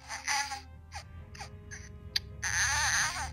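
An interactive toy pacifier for a reborn doll plays a recorded baby crying sound, with short whimpering cries and gasps ending in a longer sustained wail, faint and a little distant.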